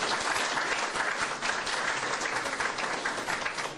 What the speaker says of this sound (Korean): 애 많이 쓰라고 박수 한번 보내주세요